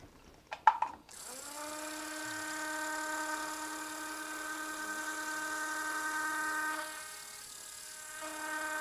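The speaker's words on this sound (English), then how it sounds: "we'll drill at least 8 millimeters into the bone" A few clicks, then a steady high-pitched whirring surgical implant drill hum runs for several seconds as it drills 8 millimeters into bone, easing slightly in pitch before continuing, close and even.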